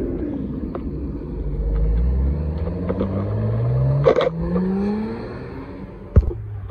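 Loud supercars pull away from the Supercarfest 2024 car show one after another, deep engine rumbles and rising revs passing near, with a couple of sharp pops over the steady roar.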